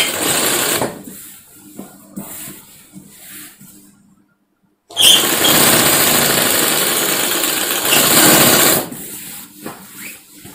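Sewing machine stitching the border of a long frock, running in loud sustained bursts with a short pause near the middle and softer stitching toward the end.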